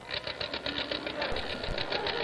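Hand crank of a movie viewer turned at a steady pace, a rapid rhythmic mechanical clatter with pulsing whir, close and fairly loud throughout the short stretch.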